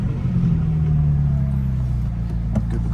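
A McLaren 570S Coupe supercar gives a low, steady, close engine rumble with a slight pitch sweep as it is driven and spun around, heard alone without voices.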